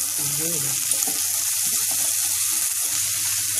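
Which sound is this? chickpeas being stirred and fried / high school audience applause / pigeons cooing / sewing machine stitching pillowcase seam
chickpeas being stirred and fried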